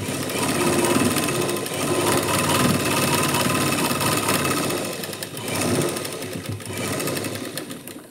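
Sewing machine running steadily through one long stitch on blouse lining, used in place of overlocking, a loud continuous whirr that dips briefly around the middle before resuming.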